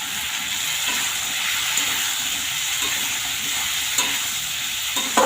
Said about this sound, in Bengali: সব মশলাগুলোকে ভালোভাবে নিয়ে একটু কষিয়ে নেব।